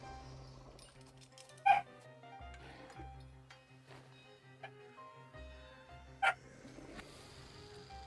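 A dog in the video game The Thaumaturge gives two short, sharp barks a few seconds apart over a steady game soundtrack with low droning music.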